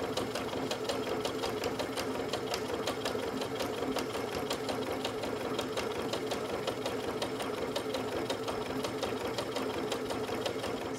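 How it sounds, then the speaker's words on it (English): A sewing machine runs continuously at a steady rapid rhythm, close and clear, top stitching near the edge of a pressed seam on a fabric shopper bag. "I'm sewing very near the edge and I've changed my stitch."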